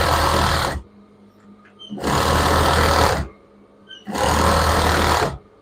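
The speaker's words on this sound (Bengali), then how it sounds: "এখন এদিকে সেলাই করব" A sewing machine runs in three loud, steady bursts with short pauses between them as it stitches children's pyjama fabric, heard up close with no talk.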